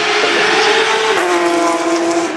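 A race car laps the Melbourne Grand Prix circuit on a 2014 community day, its engine a loud, close, steady high-pitched drone that slides slightly lower as it passes.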